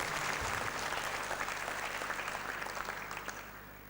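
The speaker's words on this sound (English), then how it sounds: "A round of applause for them," Audience applause fills the hall at the 2010 Gandhi Development Trust awards ceremony, a steady dense round of clapping that gradually thins and fades toward the end.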